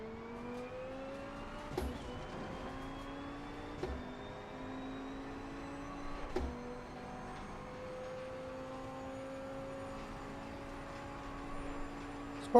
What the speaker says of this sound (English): This car almost has a hint of a Porsche sound. That really loud gearbox whine.